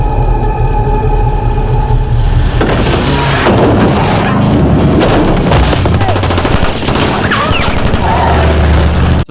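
Rapid gunfire from a film shootout with a cartel, loud bursts of machine-gun fire and single shots running throughout, mixed with booms and engine noise, with brief speech in the background.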